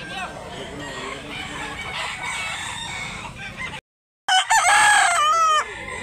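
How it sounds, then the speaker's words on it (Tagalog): Roosters at a rooster market in Mantalungon, Barili, Cebu crow loudly with rising, strained calls, the clearest crow coming near the end after a brief dropout, over steady crowd murmur and scattered clucking. "Daghang kay manok dire."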